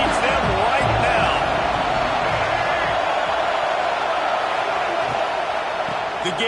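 A stadium crowd at an American football game roars steadily and loudly throughout, a dense wash of cheering and noise with faint shouts, supporting the defense.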